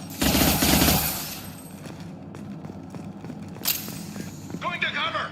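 Automatic gunfire bursts loudly at the start of a Mass Effect 2 firefight, then softer shots and clatter continue with game voices speaking over the action.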